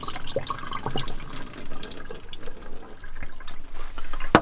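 Sprouting seeds rinsed under a running kitchen tap, with a steady splashing stream of water filling and draining in a sink, punctuated by drips and brief clatters of the container, close and moderately loud without any speech.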